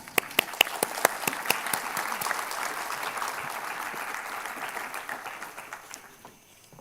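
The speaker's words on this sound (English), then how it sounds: "Please join me in welcoming him with a round of applause." Audience applause greets a lecturer at a 2022 science and engineering symposium: a few sharp early claps swell into steady, dense clapping from a large crowd, then fade out near the end.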